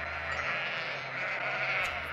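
A single sheep gives a drawn-out, nasal bleat close by, standing out clearly against a quiet background.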